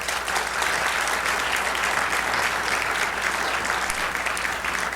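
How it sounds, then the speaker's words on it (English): An audience at an evening award presentation applauds, a dense and steady clapping that fills the whole stretch with no voices over it. "please give him a round of applause."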